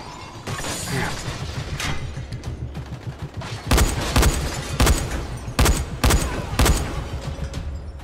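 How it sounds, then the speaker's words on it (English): Repeated gunfire in the zombie survival game Dying Light, loud sharp shots arriving in spaced bursts over a steady background of game ambience, with a denser volley at the start. "And we're getting shot at, huh?"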